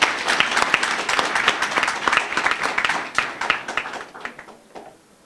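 A conference audience at a Guinean ministerial address applauds the participants, a dense burst of many clapping hands that starts strong and thins out into scattered claps before fading away.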